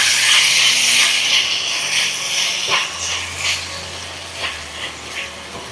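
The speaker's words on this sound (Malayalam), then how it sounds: "ഇനി ഒന്ന് ഇളക്കി കൊടുക്കാം." Chicken sizzling and hissing in a pan with tomato ketchup and soy sauce as it is stirred, a steady steamy frying hiss broken by scattered scraping clicks from the stirring.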